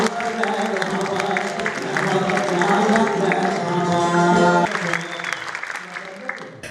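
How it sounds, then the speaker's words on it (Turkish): Large audience applauding in a hall after a Turkish folk minstrels' poetic duel, a dense, steady wash of clapping lasting several seconds with tonal music running underneath, briefly swelling before easing off. "atışmaları salondan büyük alkış aldı"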